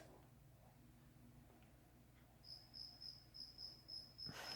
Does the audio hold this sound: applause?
no